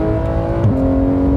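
A Porsche 911 GT3 with a PDK gearbox revs hard near its top end. The engine holds a loud, steady high-pitched wail, then dips briefly at a gear change before settling back into the same close, continuous note.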